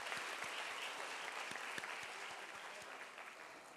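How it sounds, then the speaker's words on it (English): Audience at the BSE StAR MF 10th anniversary celebration claps in a dense, continuous round of applause, heard faintly and at a distance, with no talking. "Let us have a big round of applause for sir."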